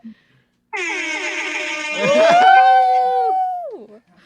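A blaring air horn sound effect sounds alone, a long sustained blast that bends downward in pitch near the end before cutting off.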